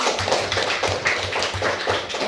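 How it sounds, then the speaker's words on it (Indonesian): A class of students claps for a classmate during a school lesson, producing a brief run of rhythmic, fairly close claps in a steady pulse, moderately loud, with no talking. "Beri tepuk tangan untuk Aiman."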